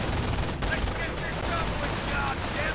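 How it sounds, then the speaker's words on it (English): Gunfire from grenadiers and a Schwimmwagen in a World War II strategy game battle, a dense, continuous crackle of rifle and machine-gun shots with heavy low rumble, loud and steady throughout. "Riflemen under heavy fire from Grenadiers and the Schwimmwagen."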